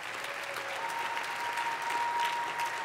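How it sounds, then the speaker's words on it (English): A large roast audience applauds for Melania, a steady, even wash of clapping that holds at an even level throughout, somewhat distant and muffled. "Give her a round of applause."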